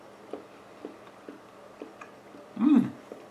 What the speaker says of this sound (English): Oh, you can chew it. It's not a hard candy.